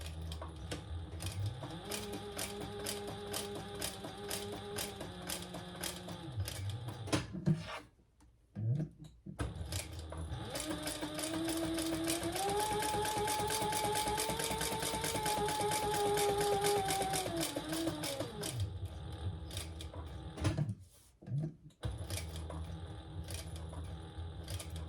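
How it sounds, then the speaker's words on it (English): A sewing machine stitches a crossbody bag in two long runs, its whirring motor rising in pitch as it speeds up, with short quiet pauses between and before the final stretch, close and clear. "I'm just gonna sew right inside that line."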